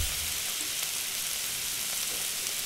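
Soy sauce and chilli sauce sizzle in a frying pan while being stirred for chicken Manchurian: a steady, dense, close frying hiss throughout with no voices.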